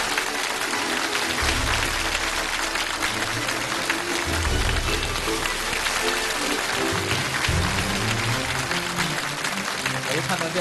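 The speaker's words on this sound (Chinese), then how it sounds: "掌声有请我们的第一位开讲嘉宾，" A studio audience at a televised talk show applauds steadily to welcome Olympic champion Feng Zhe, a dense unbroken clapping wash with music playing underneath.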